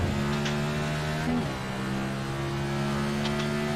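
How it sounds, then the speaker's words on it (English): Camaro next gen NASCAR Cup car with a sequential gearbox in a racing sim game, a loud close engine roar climbing in pitch, dipping briefly on a gear change, then revving hard again with no talk. "So the Camaro next gen NASCAR Cup car come around the last corner, and we're going to put our foot down so you can listen to this beast."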